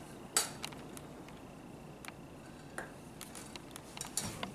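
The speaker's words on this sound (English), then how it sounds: "I'm using my handy dandy spatula to dish up some rice here." A spatula scooping cooked rice onto a dish, giving a few faint clinks and scrapes against the plate in a quiet kitchen.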